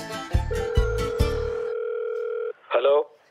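A telephone ringback tone repeats three times in quick pulses and then holds steady for a second before cutting off, followed by a brief burst of a voice, with the call going unanswered.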